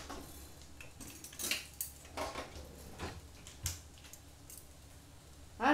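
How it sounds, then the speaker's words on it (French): Metal spoons clink against each other as more are picked up in a home kitchen while cooking spaghetti with meatballs, several light separate clatters close by with quiet gaps between. "Je prends d'autres cuillères pour les VG."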